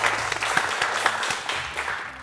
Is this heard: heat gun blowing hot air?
no